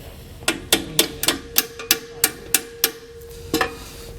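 Hammer gently tapping a bolt through nylon washers while fitting a TorkLift GlowGuide camper handrail, about a dozen sharp, close metallic taps in a fairly steady rhythm, alone with no talk.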